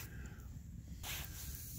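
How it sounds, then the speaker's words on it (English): Alcohol camping stove burning at a winter tent camp, a steady soft roaring hiss that swells louder about halfway through, close by with no talk. "And here's our alcohol stove burning away."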